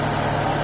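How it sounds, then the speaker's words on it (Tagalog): A Mitsubishi Lancer engine idles steadily and smoothly after tuning and sensor adjustment, a continuous close low rumble with an even hum and no voices. "ito na yung makina natin. Medyo okay na."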